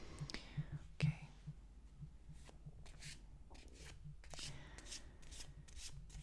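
Tarot cards are shuffled softly and close up for an ASMR reading, a run of quiet rubbing and riffling swishes with a sharper tap near the start, faint and unhurried under light breathy ambience.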